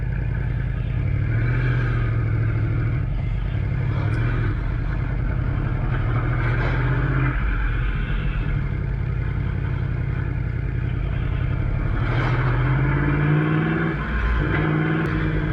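2018 Yamaha R1 1000 cc sport motorcycle with an Akrapovic Evolution Line full exhaust system, ridden at an easy pace, its steady engine drone and exhaust note running continuously and loud, with a few rises in revs.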